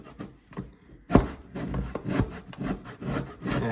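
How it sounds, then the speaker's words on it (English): Fresh, firm lemon rind rubbed against a grater while baking a lemon loaf, giving irregular scratchy rasping strokes with a stronger scrape near the middle, quiet and close with no talk. "you're gonna grate all of the rind off until it's all down to the pulp"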